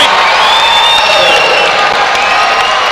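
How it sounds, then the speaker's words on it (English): Crowd at a men's college volleyball match against Ball State roaring and cheering at match point, a loud sustained wall of voices with whoops, shouts and scattered clapping throughout. "Crowd on its feet."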